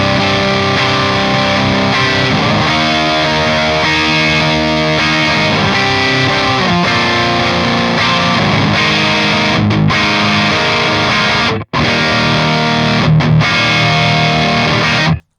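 Distorted PRS McCarty SC56 electric guitar on the neck pickup, a thick, rich overdriven riff played steadily and loud up close, with a couple of short breaks late on and no voices.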